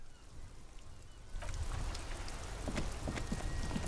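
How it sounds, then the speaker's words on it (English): Steady rain falls across the streets of Revachol in the video game Disco Elysium, a dense, even patter that swells noticeably louder partway through, with scattered nearby drips standing out against the constant wash. "This rain will not let up anytime soon."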